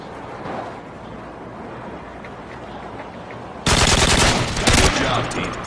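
Video game gunfire erupts suddenly as a loud, dense burst of rapid shots that continues to the end, after a stretch of murky background noise.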